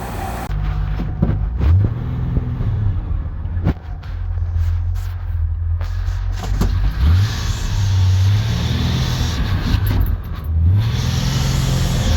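A Triumph GT6 car driving: a steady engine drone from inside, with rising revs through several gear changes and rattling road noise.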